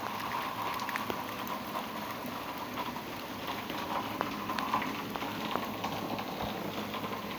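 A downpour drums constantly on surfaces nearby, a thick wash of rain with occasional sharper drips and splashes standing out.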